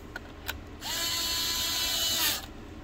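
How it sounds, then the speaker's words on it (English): A cordless screwdriver whirs for about a second and a half while tightening screws into the plastic body of an iRobot Braava Jet M6, preceded by two small clicks, close and fairly quiet. "I go around and I tighten up my 4 screws that I've loosened"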